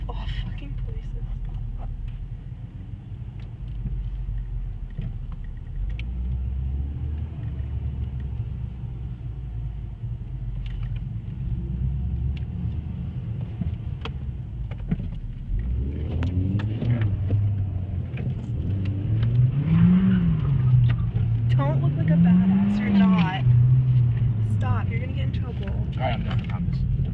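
A Hyundai Genesis Coupe does donuts, a low engine rumble building into rising and falling revs toward the end, heard at moderate distance beneath nearby people talking.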